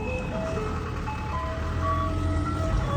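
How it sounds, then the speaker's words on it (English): An ice cream truck's jingle plays as a tinny melody of bright sustained notes over steady engine rumble from across the road, continuous for a few seconds. "There's an ice cream truck."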